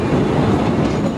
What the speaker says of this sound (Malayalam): ഇപ്പോൾ വൈദ്യുതി കൊണ്ട് പ്രവർത്തിക്കുന്ന ട്രെയിനുകളാണ് ഇവിടെ സർവീസ് നടത്തുന്നത്.